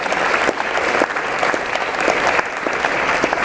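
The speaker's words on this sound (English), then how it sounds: "give yourself a round of applause" Dense audience applause fills a theater at a benefit Q&A, a steady wash of many clapping hands that keeps going without a break and stays loud the whole way through.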